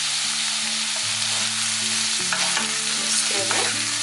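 Cauliflower curry fries in a pan while being stirred, a close continuous sizzle with rhythmic scraping and knocks of the spoon against the pan.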